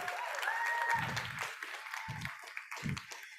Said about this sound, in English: can we give an amazing round of applause to Rachel and Lindsey for the amazing hosting?